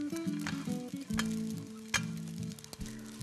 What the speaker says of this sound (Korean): 이것도 이제 아까랑 마찬가지로 계속해서 볶아주도록 하겠습니다